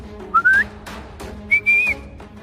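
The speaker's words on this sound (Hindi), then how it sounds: "ये सीटी की आवाज कहाँ से आ रही है?" A prisoner perched up on a ceiling fan whistles two short, rising, bright notes, about a second apart, close and clear with no talking.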